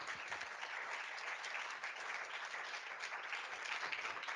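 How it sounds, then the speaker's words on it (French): An audience at a talk on regional access to healthcare applauds steadily, a dense, even wash of clapping that holds at the same level throughout, with no voices over it. "On peut vous applaudir."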